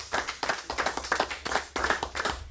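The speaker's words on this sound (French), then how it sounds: "on peut l'applaudir bien fort" Applause for a guest in a French morning radio studio: a small group claps steadily, in quick, dense bursts that pulse rhythmically, close and moderately loud, with no voices over it.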